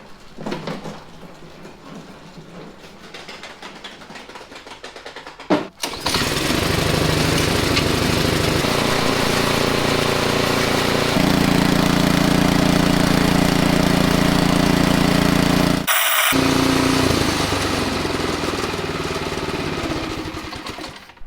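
A snowblower engine is pulled to a start with a sharp burst, then runs loud and steady, its pitch rising as the throttle increases, with a brief dropout near the end.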